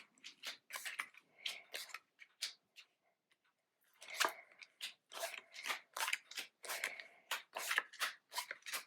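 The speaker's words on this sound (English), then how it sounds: "you put out your cards just as if you were playing the game" Playing cards being laid out one after another on a table, a quiet series of soft snaps and slides with a short pause midway.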